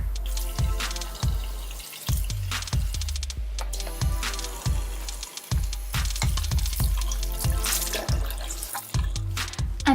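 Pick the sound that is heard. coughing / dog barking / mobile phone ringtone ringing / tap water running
tap water running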